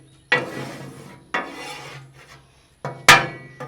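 A dark roux being stirred in a large skillet for gumbo, with four separate scraping strokes of a utensil rasping across the pan, each sharp at the start and fading, no talk.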